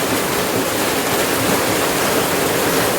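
Heavy rain falls on trees in a continuous, loud wash of broadband hiss, even and unbroken from start to end, with no talking.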